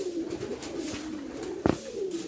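Pet pigeons coo in a steady, low rolling murmur close by, with a sharp knock partway through and no talk over it.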